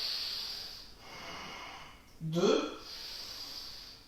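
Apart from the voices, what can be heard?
yoga breathing during a held pose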